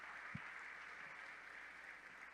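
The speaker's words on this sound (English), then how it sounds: "please give yourselves and everybody a big round of applause" Audience applauding at the closing ceremony of ETHSanFrancisco, a hackathon event, heard as a steady, fairly faint wash of clapping from a large crowd with one brief low thump near the start.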